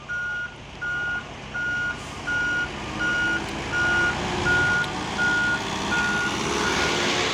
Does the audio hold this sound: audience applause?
no